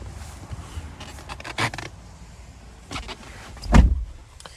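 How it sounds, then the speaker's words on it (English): An 8-way power driver seat adjusting inside a 2024 GMC Sierra 2500HD 6.6L truck: short whirring motor bursts separated by pauses, ending in a louder thump, close and alone. "We do have our 8-way power driver seat adjustments right there."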